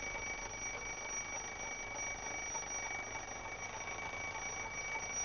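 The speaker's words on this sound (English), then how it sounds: "We can hear the sound the bell makes all the way around the clock." An alarm clock bell rings continuously and loudly, a steady metallic clatter held at close range with no pauses.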